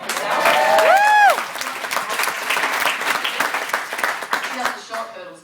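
Audience applause at a motivational speech, a dense wash of clapping that swells strongly for about a second, then keeps rolling at a steady level under a speaking voice before thinning out toward the end.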